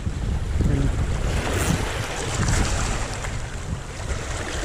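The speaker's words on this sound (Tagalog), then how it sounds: "Medyo mahangin mga master, no?" Steady wind gusting across a microphone at sea, with waves and water rushing around a small fishing boat, loud and continuous throughout.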